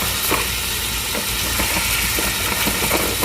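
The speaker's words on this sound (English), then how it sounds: "Right now we're browning the beef." Ground beef browns in a very hot pan for homemade chili, giving a steady, close hiss and sizzle with scattered crackles and pops that run the whole time, with no talking.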